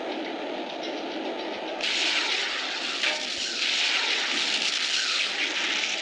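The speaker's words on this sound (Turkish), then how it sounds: "Uçaklar varmış arkadaşlar." Video game aircraft engines drone steadily in a mission at sea, then grow louder and brighter partway through and keep a constant roar with no voices.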